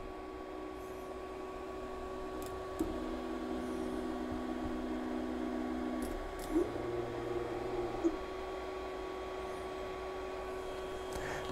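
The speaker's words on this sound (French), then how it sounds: "L'imprimante est très silencieuse, c'est le fun." A Creality CR-10S Pro 3D printer runs quietly, a low steady motor hum with faint tonal whines that shift and pause, plus a couple of small clicks, fairly near with no talk.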